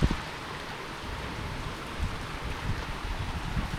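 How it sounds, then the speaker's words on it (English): Steady rain pours down outdoors near a fish pond, a continuous soft wash of falling drops with no voices, holding even in level for several seconds. "Really raining."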